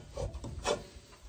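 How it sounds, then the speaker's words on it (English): A cotton rag wipes excess oil from a stainless steel skillet in two or three short, close rubbing swipes. "we're just gonna wipe the excess oil out of it with a cotton rag"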